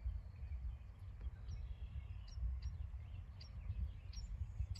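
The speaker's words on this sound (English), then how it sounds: "You hear the birds chirping." Faint, scattered bird chirps over a steady low rumble of outdoor ambience in a spring pasture, brief high calls spaced irregularly through a calm evening scene.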